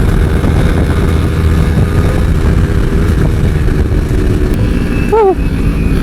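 Kawasaki Ninja 250 motorcycle cruising at around 140 km/h, a steady loud engine drone mixed with heavy wind roar throughout, with a brief rising tonal whine near the end.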